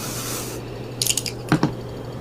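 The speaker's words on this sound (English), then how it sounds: "shaking my dry shampoo and spraying it on everywhere" A close aerosol can of dry shampoo sprayed onto hair hisses steadily, then stops, followed by a few short rattling bursts like the can being shaken or spritzed.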